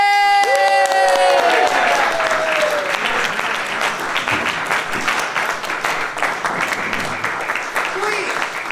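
Audience at an improv comedy show breaks into loud, sustained applause with some cheering, a dense wash of clapping that stays strong for several seconds.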